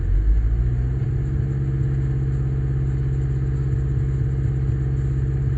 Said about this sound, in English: And now I'll rev the car to 2000 rpm.